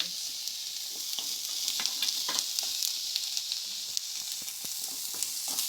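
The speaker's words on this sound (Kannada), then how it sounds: "ಸ್ವಲ್ಪ ಫ್ರೈ ಆಗಲಿ ಹೀರೆಕಾಯಿ ಸಿಪ್ಪೆ" Ridge gourd peel and green chillies frying in a pan give a steady, close sizzle with occasional stirring clicks throughout, and no voices.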